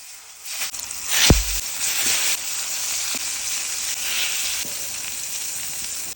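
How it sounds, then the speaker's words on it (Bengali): Eggplant slices frying in mustard oil, a steady close sizzle with a sharp hissing burst near the start as pieces hit the hot pan, then continuous crackling. "বেগুনটা কুটি নেব এলা বেগুনগুলি ভাজি নেব"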